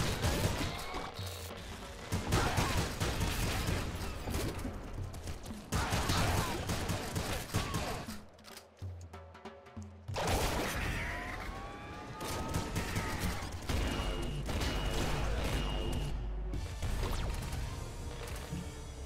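Rapid bursts of shotgun fire in the video game Nuclear Throne Ultra Mod, dense overlapping blasts and crashes with game effects, pausing briefly midway before resuming in a loud barrage.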